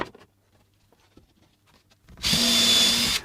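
A power drill drives a screw into 12mm MDF cabinet dividers in a workshop, a short loud whine rising after a few quiet taps and handling sounds, close to the mic with no talk.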